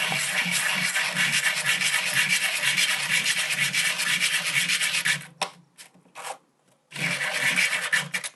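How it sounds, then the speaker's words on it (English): Rapid rhythmic rasping of sanding a domed metal locket, close and steady for several seconds, then brief pauses before the scraping resumes. "There's still a couple of spots where that needs sanding down"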